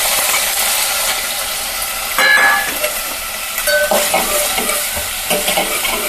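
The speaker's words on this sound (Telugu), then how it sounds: "ఇవి కూడా కొంచెం ఫ్రై అలాగా బ్రౌన్ కలర్ వచ్చేంత వరకు ఫ్రై చేసుకోవాలి." Onion pieces fry in a pan for egg curry, a loud, close, continuous sizzle with intermittent scraping and stirring clatter and a brief squeaky metallic scrape, no voices.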